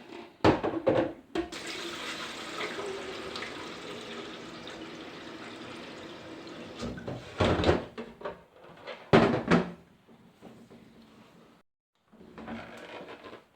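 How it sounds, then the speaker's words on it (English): Water running from a tap into a Brita Maxtra filter jug, a steady splashing fill with a few louder clunks and bursts of flow, then a brief quieter stretch before the water resumes. "So we filled the jug up with water to just under halfway"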